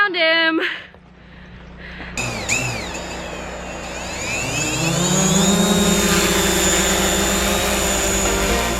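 A small drone flying close by in a snowy pasture, its loud, steady whine rising in pitch as it spins up and then holding a constant buzzing drone, with voices heard briefly at the start.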